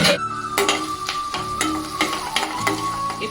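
Onions going into hot oil with chana dal for a ridge gourd curry: a steady sizzle with repeated sharp clinks and scrapes of a spoon stirring in the pan, close and fairly loud.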